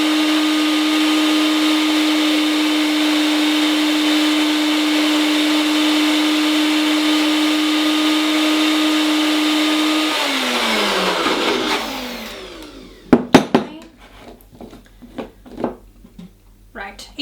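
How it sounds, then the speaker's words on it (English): A countertop blender whirs steadily with a strong motor hum as it purees vegan butter ingredients, running continuously for about ten seconds before spinning down, followed by a few clunks and quiet handling noises. "So first we're gonna blend it"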